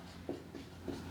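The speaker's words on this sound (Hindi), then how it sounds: "तो हेडिंग लिख लेते हैं अपन" Handwriting a heading, probably pen on paper or board, faint soft scratching strokes in three short bursts over a quiet room hum, no talk.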